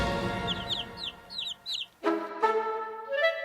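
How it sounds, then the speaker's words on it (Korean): Thin, high chick peeps repeat in quick bursts, followed by a lower, fuller fowl call with a strong harmonic tone. "저기 병아리가 부화할 것 같은데?"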